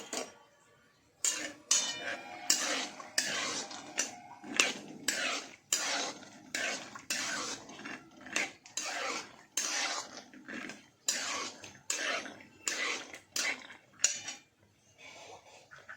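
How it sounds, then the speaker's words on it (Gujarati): Peanuts roasting in a pan while being stirred in oil, made for a dry papad poha: rapid, repeated metallic scraping strokes of a spoon against the pan, each followed by a rattling clatter of shifting nuts, steady and close. "મગફળીના બિયા થોડા શેકાઈ જાય"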